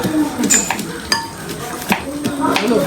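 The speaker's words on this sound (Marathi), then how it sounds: "लसूण चेची, कोबी कापी" Garlic being crushed in a home kitchen, a series of close, irregular knocks and metallic clinks spaced roughly every half second to second, over a quiet room background.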